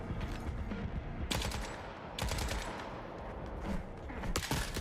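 Short, faint bursts of SC-58 rifle fire in the video game Forever Winter come in about four separate volleys, each a quick rattle of shots over a low background.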